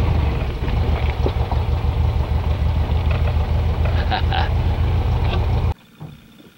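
Air-cooled engine of a 1969 VW Baja laboring up a mountain trail at altitude with tall gearing, a loud close rumbling drone that cuts off abruptly near the end.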